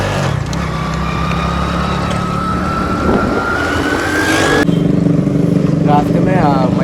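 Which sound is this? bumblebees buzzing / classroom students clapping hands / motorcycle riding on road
motorcycle riding on road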